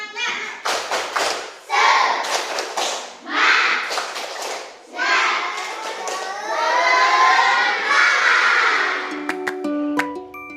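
Primary school children in groups clap out a rhythmic spirit chant in bursts, sharp clustered claps and thumps with shouting voices, loud and near, then a brief electronic tone at the end.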